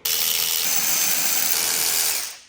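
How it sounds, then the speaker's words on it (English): A power tool whirring as it undoes bolts on a Porsche engine block, one continuous, loud, close burst of about two seconds that winds down at the end. "So we're gonna undo all of these bolts here"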